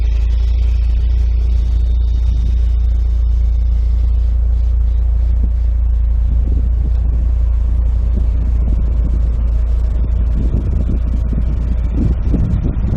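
A 2003 Mitsubishi Lancer Evolution 8 RS driving on the road, its engine a loud, steady rumble with heavy low-end drone and wind buffeting the microphone, swelling slightly toward the end with no voices.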